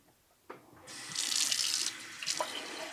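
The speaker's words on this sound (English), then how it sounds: "So now with the rinse, make sure we're going to use cool filtered water" Cool filtered tap water runs into a beer glass for a rinse: a quiet click, then the faucet opens into a loud, steady splashing stream that tapers off, with no talking.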